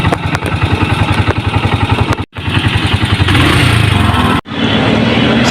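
A motorcycle engine runs steadily and loud up close, its rhythmic low chugging broken by two brief cutouts, on a delivery ride before the bike is left parked outside a narrow neighborhood.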